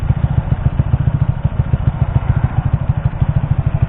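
Single-cylinder engine of a Kawasaki KSR 110 minibike running up close, a loud steady rapid thumping beat with a mechanical clatter throughout.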